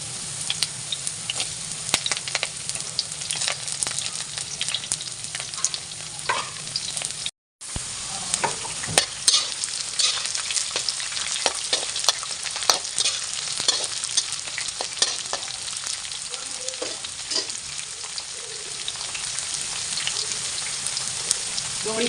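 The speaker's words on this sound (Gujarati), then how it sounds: "સૌપ્રથમ આપણે એને બટાકા નાખી એને ફ્રાય થવા દઈશું।" Potatoes fry in a pan with whole cloves for masoor pulav. A dense, crackling sizzle with frequent spitting pops runs throughout, broken once by a very brief drop to silence.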